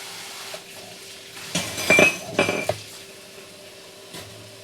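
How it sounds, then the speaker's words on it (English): A cooking pan clanks and rattles as it is set down in a kitchen sink, a short cluster of metallic knocks over quiet kitchen background, close by. "you're probably hearing me put the pan in the sink"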